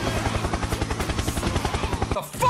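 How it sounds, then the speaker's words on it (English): Helicopter in a 3D video game, rotor blades thumping in a fast steady pulse for about two seconds before cutting off abruptly, close and fairly loud. "Helicopter! Helicopter!"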